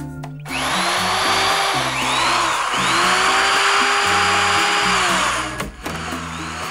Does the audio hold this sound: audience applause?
no